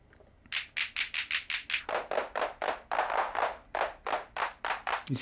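A clap sample on a Roland SP-404sx sampler fires in a rapid, even sequence of crisp, close hand-clap hits, roughly two dozen in a row with a brief gap near the end, in a house-music beat.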